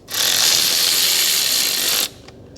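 Ratchet wrench spinning a bolt off a stud on the diesel engine of a Toyota Landcruiser 200 Series during fuel injector replacement, a close, loud continuous clicking whir lasting about two seconds, then stopping abruptly.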